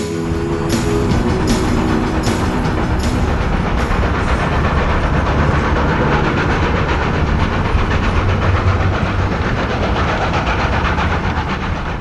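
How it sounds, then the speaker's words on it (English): A massive KB steam locomotive hauls a train on New Zealand's Midland line toward Arthur's Pass, loud and close with steady hissing steam, rhythmic exhaust beats and a few sharp whistle-like bursts early on. "From Springfield, massive KB engines haul most of the trains on the mountain section up to Arthur's Pass"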